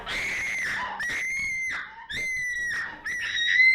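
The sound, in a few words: woman screaming behind a locked study door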